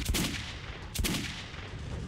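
Gunfire in the shooter game Metro 2033: two sharp shots about a second apart over a dense background rumble, loud and close.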